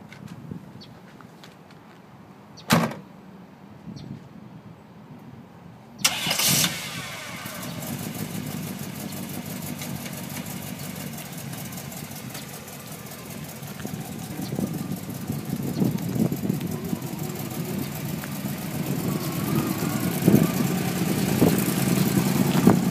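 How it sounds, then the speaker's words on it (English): A 1957 Buick Special fires up after a quiet start with a couple of sharp knocks. The engine then settles into a low, steady running rumble that builds gradually as the car pulls away and drives on. "Test drive in the 57 Buick Special."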